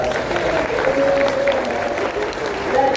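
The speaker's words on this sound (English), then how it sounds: "Everyone's going to give you a great big round of applause" An audience aboard a showboat bursts into sustained applause, a thick continuous patter of many hands with a faint tonal hum running underneath.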